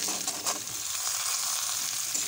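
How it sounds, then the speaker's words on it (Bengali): Cut potatoes tossed into a pan of fried onions give a steady, close sizzle with a few stirring scrapes near the start, and nobody speaks. "পেঁয়াজটা ভাজা হয়ে গেছে, এবার এতে কেটে রাখা আলুটা দিয়ে দিচ্ছি"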